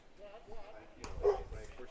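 Dogs barking from the stands at a fan-free baseball game between the Brewers and Sharks, a few sharp barks mixed in with a commentator's voice over ambient crowd-track noise.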